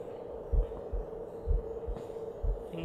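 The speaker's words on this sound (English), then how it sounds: "I hear a heartbeat." A slow, muffled heartbeat pulses in the horror video game The Sheep Will Wake, low thuds spaced about a second apart over a faint droning hum.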